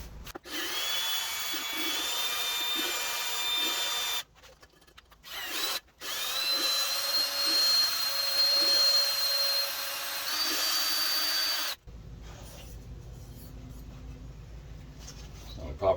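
A drill spins a valve lapping tool, grinding a cylinder head valve against its seat in bursts of steady whirring with brief pauses between runs, close by, with a quieter grinding stretch near the end.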